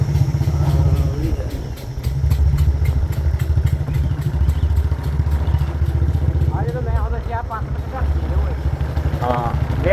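An engine runs steadily at an old site in Dhalewan village, Mansa district, with a low, continuous rumble throughout. People talk over it.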